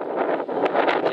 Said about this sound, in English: It's that windy.